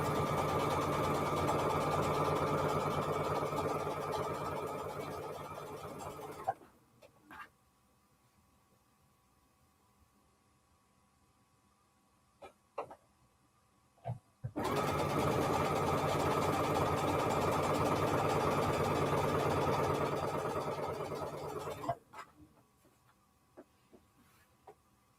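A sewing machine stitches in two long, steady, whirring runs of several seconds each, separated by a quiet pause with faint clicks and handling sounds, recorded close by.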